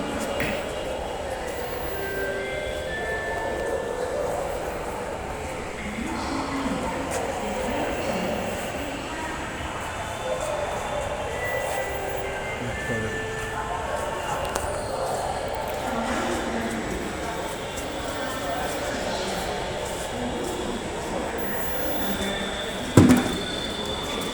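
A Bangladesh metro rail train runs with a continuous rumbling roar and squealing wheels. Faint voices sit beneath it, and a brief loud clank comes near the end.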